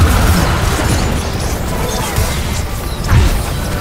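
Galio's Freedom Punch landing in League of Legends, a heavy booming impact among crashes and pops in a busy teamfight, with a voice over it.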